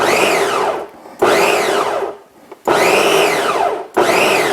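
A blender whirs in short bursts, three loud pulses with brief pauses between, each spinning up to a high whine and cutting off, while preparing egusi soup.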